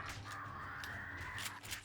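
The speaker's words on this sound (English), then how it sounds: "I hear the birds out there." Birds in a video game caw repeatedly in harsh, scratchy calls over a steady low hum, moderately close and fairly quiet.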